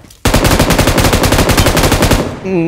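Gunfire in the mobile shooter PUBG Mobile: a loud, close, rapid automatic burst of evenly spaced shots lasting about two seconds, ending in a short ringing tail, with no talking.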